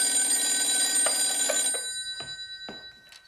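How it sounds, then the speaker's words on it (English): A telephone bell rings loudly in a continuous trill for under two seconds, then fades out, followed by a few faint clicks and knocks as the handset is picked up. "I better answer that phone."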